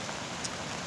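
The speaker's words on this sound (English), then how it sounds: "it's starting to rain now" Rain falls outdoors over a field as a soft, even hiss for about a second, fairly faint and steady with no talking.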